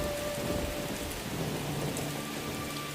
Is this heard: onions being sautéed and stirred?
no